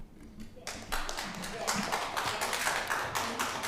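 An audience claps at a planning commission meeting, a dense patter of many hands that swells in and holds steady, with a voice talking beneath it.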